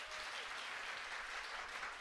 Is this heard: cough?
no